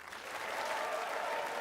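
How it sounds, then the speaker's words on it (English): A soundboard cheering effect plays as a burst of applause and crowd cheering, which rises quickly and then holds steady and fairly loud. "that cheering is not the best cheering."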